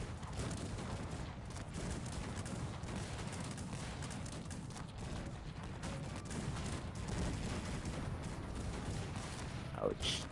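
Massed gunfire and battle noise from a Cossacks 3 real-time strategy battle, as troops with firearms cut down charging melee fighters, a dense continuous roar of volleys and crackling shots with a brief sharper burst near the end.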